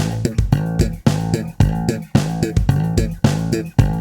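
Slap bass octaves with slides into the notes: a funky, syncopated run of sharp, percussive plucks with short gaps, loud and alone with no voices.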